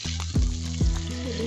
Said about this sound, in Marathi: आता आपण याला फोडणी देऊया